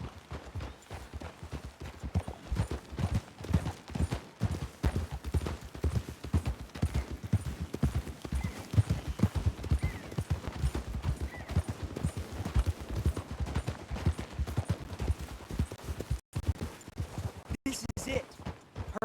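Horses gallop in Red Dead Redemption 2, a steady rapid clip-clop of hooves running throughout, close and continuous, with brief breaks near the end.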